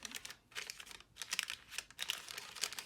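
Close, quiet crinkling and rustling of a lunch bag as it is opened, coming in irregular short bursts with brief pauses between them, with no voices over it.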